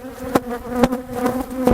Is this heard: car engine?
no